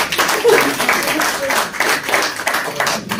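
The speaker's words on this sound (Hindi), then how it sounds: "इनके लिए जबरदस्त तालियां।" Audience applause at the All Kashmir Car Cup 2023 award ceremony, run by a pigeon sports club: a steady, dense wash of clapping that lasts throughout, with voices mixed in.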